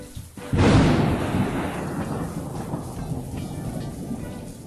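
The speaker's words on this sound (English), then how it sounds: "only a couple seconds later, thunder boomed" A loud, close thunderclap breaks suddenly and then rolls and rumbles away over several seconds, with steady rain hissing underneath throughout.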